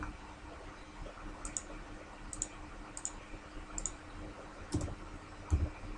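Computer mouse clicks while building joints in Maya: soft, sparse clicks spaced about a second apart over a quiet background hum, with a slightly louder pair near the end.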